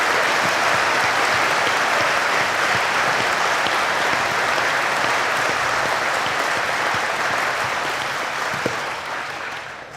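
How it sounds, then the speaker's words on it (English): Sustained audience applause at a university graduation ceremony, a dense wash of clapping from a large crowd that holds steady for several seconds before easing off slightly at the end. "giving us all a round of applause for what you've managed to achieve"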